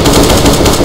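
Rapid automatic gunfire in Counter-Strike: Global Offensive, a loud continuous burst of shots close up with no talking.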